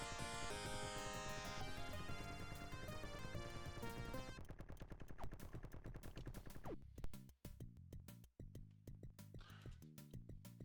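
Bursts of gunfire in the video game Traffic Department 2192, rapid sharp shots rattling over loud dense game sound, turning into scattered separate cracks toward the end.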